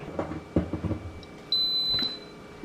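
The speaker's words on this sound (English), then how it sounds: "as soon as I plugged in, it beeped." A Simfonio Simpot 8-quart electric pressure cooker gives a single clear, sustained electronic beep when plugged in, close and fairly loud after some faint handling noise.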